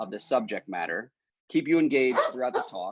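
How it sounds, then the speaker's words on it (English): A dog barks and yips in the background while a person gives a lecture, the short sharp barks mixed in with the steady speaking voice. "I apologize for my dog."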